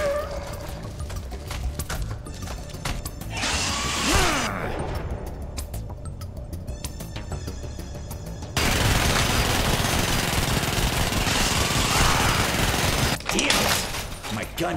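Gunfire from a space shooter game, a dense continuous stretch of rapid shots and noisy blasts, heaviest in the second half, mixed with other game effects and occasional voices.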